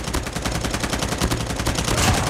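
Rapid automatic gunfire from the mobile shooter game Call of Duty Mobile rattles in a fast, even stream of close, loud shots that run without pause.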